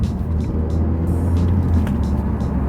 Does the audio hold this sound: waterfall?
no